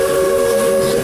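A Disney Magic Kingdom railroad steam train lets out one loud, sustained whistle with steady tone and no gaps, heard close and alone.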